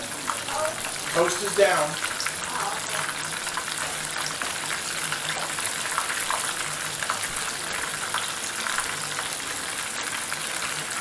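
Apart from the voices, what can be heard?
shrimp sizzling while frying in a pan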